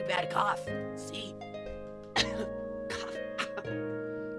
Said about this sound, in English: I've got a pretty bad cough. See?